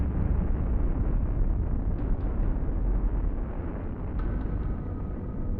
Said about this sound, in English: When the asteroid struck Earth, it unleashed energy equivalent to 1 million nuclear bombs.